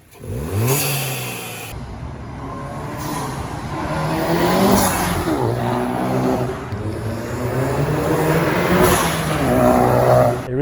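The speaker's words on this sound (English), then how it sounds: "That's why I opted in and got this MST cold air intake here." A Volkswagen Golf GTI fitted with an MST cold air intake accelerates and revs, engine pitch rising and falling in repeated pulls with intake whoosh, loud and close, no talk.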